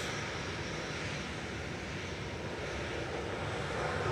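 A Ryanair Boeing 737-800 lines up on the runway at Manchester Airport, its jet engines a steady, moderately distant broadband rumble and hiss that builds slightly at the end, with no speech.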